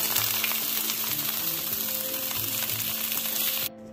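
Meatballs fry in a Caraway sauté pan over medium heat, giving a loud, steady sizzle with faint stirring that cuts off abruptly near the end.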